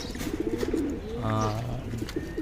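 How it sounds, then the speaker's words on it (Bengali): Pigeons coo inside their coop, a soft throaty rolling call rising and falling up close, with faint rustling around it. "যে কয়টা কবুতর আসলে থরের ঘরে দিয়েছি"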